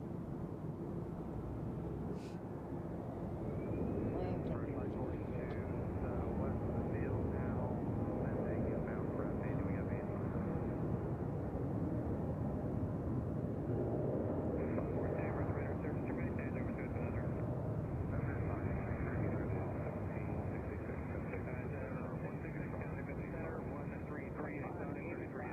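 A Southwest airliner taxis at Nashville International Airport, its engines giving a steady, distant jet rumble and whine under a voice.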